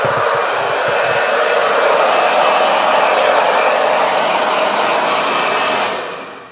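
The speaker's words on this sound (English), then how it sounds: "So I'm going to blow dry my whole head like so." A hair dryer blows continuously and loudly at close range while it dries hair, giving an even, airy roar that cuts off at the end.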